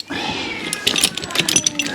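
A cat screams with a drawn-out, wavering yowl that rises near the start, while people talk over it in the background.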